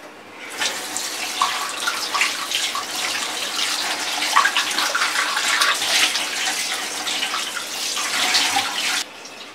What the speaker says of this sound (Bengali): আমি কাপটা আপনাদেরকে একটু ধুয়ে দেখাই।